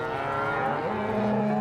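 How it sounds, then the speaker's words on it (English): Cattle low and moo during a cattle drive on a Montana ranch, drawn-out bellows rising and bending in pitch over a continuous outdoor rumble. "We finally get the cows gathered into one group."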